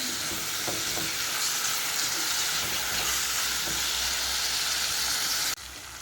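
Onion, tomato, green chili and curry leaves sauté in a hot pan with a steady, fairly loud sizzle, punctuated by scraping stirs of a spoon, alone without talk.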